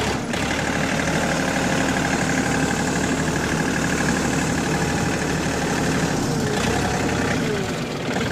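A John Deere 4410 tractor engine runs steadily and loud throughout, a low rumbling idle that holds as the machine is put in forward and pulls away, with no pause in the drone.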